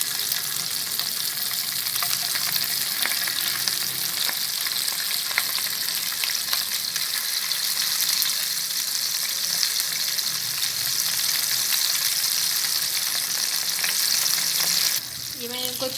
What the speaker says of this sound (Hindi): ये मैंने इनको चारों तरफ से फ्राई कर लिया है